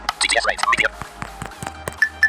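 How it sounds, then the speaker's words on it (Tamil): A mobile phone plays its notification tune, a quick run of bright chiming notes up close, followed by scattered taps and a few soft pings. "நம்ம நோட்டிஃபிகேஷன் டியூன் கூட வந்துருச்சு பாருங்கள்"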